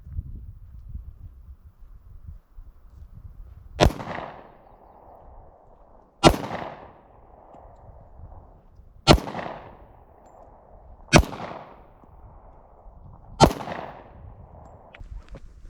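Five loud pistol shots from 1911 handguns ring out one at a time at an outdoor shooting range, each a sharp crack spaced a few seconds apart, with faint background noise between them.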